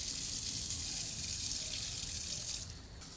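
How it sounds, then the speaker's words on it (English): Running tap water pours steadily over raisins being washed in a bowl, a continuous close splashing rush that drops slightly in level near the end, with no talk. "We collect the required amount of our raisins in a bowl and wash them well under water"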